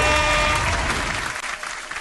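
A canned applause sound effect on a radio show, a dense burst of crowd clapping that starts loud and gradually fades over about two seconds, with no talking over it.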